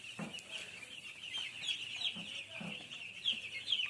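Chickens cluck steadily and close by in their coop, with soft repeated clucks and occasional higher calls layered over one another throughout.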